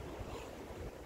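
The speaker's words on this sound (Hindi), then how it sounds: "हवा चल रही है" Steady wind buffeting a microphone outdoors, a dense continuous low rumble and rush that fills the whole short moment without any break.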